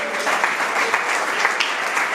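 A congregation at a Spanish-language church service claps for the Lord Jesus Christ, a brief steady burst of applause at moderate loudness.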